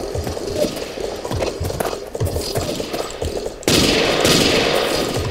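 Gunfire in the video game Ace of Spades on a bridge map: rapid bursts of repeated shots, loud and close, ending in a denser, sustained volley.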